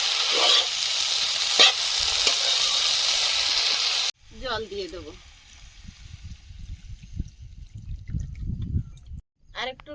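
Gourd leaves hitting a hot pan with cumin powder, sizzling loudly at first, then giving way to quieter stirring and scraping with brief clatters and a voice talking in between.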